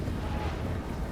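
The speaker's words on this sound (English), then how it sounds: "The Great Cannon's now opening fire on the Dwarf infantry" Great Cannon artillery in the video game Total War Warhammer firing on Dwarf infantry, heard as a dense, continuous low rumble of battle with booming fire blended throughout, with no distinct single shots standing out.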